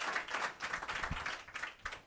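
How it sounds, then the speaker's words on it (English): A small worship gathering claps hands together, quick uneven claps from a few people, moderately near and fairly quiet, with no one talking. "Get a Lord a hand clap"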